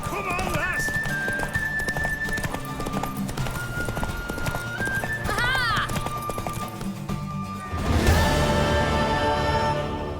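Horse hooves galloping in The Witcher 3, rhythmic clip-clop running under music and speaking voices, with a neigh midway and a louder crashing surge near the end.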